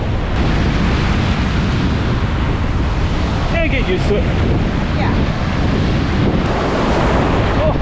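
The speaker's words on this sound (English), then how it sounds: "The waves are choppy on this side" Choppy ocean waves surge and wash steadily at a beach in Bimini, with loud wind buffeting the microphone throughout, while people talk briefly and splash nearby.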